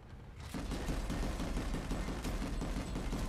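Gunfire from a gunner position in the Planetside 2 video game on PS4, rapid sustained automatic bursts rattling continuously after a brief quieter start, close and heavy throughout, with no talk.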